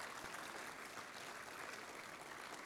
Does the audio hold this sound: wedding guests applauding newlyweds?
yes